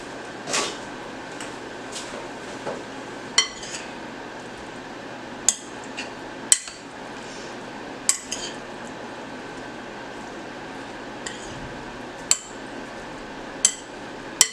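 Metal utensil scraping and clinking against a pan while stirring gravy roux, with sharp taps every second or two over a steady background hum.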